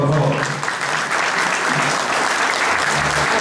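Steady, dense applause from an audience at a school award ceremony honouring a civic parade's winning institutions, loud and continuous throughout.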